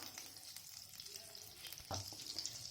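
Butter sizzles and crackles in a hot pan for egg bhurji, a soft steady frying hiss with a few stirring clicks, close by and no talking.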